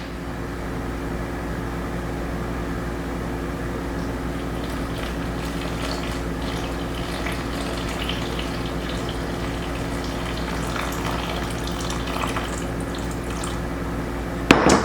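Cool water pours steadily into a bowl of flour set on a kitchen scale, a continuous close trickling stream that runs unbroken for the whole stretch before a brief clatter at the very end.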